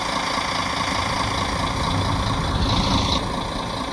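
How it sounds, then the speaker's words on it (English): Setra ComfortClass S 519 HD coach engine in the Fernbus simulator game idles with a steady low diesel rumble and constant hum, close and unbroken, with no voices. "Decent sounds."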